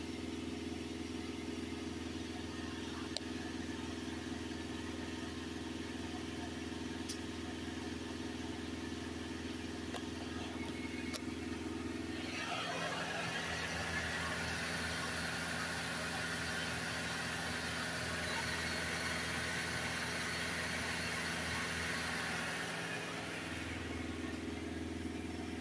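A Volkswagen Crafter 2.0 TDI diesel van with a particulate filter soot restriction fault is held at raised revs, a steady engine drone that rises in pitch partway through, holds, then settles back down.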